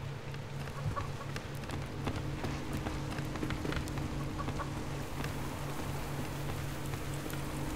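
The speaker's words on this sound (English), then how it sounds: "Wish this rain would stop." Video game rain, from Subsistence: steady patter continuously on surfaces, a soft even hiss with faint scattered drops and a few distant bird clucks.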